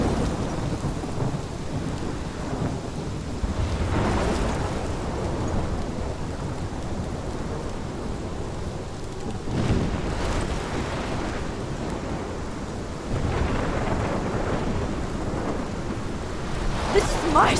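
A thunderstorm in the video game Life is Strange: steady heavy rain pours throughout while deep thunder rumbles and cracks roll in several times, loud and enveloping.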